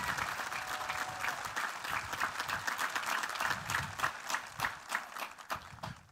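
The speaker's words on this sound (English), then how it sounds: "Please, a round of applause." A graduation crowd at Manasquan High School's 2025 ceremony gives steady applause, many hands clapping at a soft, distant level, with individual claps growing more distinct toward the end.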